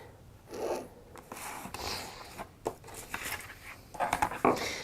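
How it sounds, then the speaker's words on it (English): A marker or pen drawing straight lines on fabric for a textile project, heard as a series of close, dry scratchy strokes that start and stop irregularly, with no talking. "I'm just going to draw in my straight lines."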